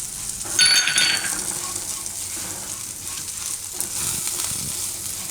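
Methi chillies stirred into spice masala in a pan over a low flame, a soft steady sizzle with scraping stirs and a brief metallic clink of the spoon against the pan.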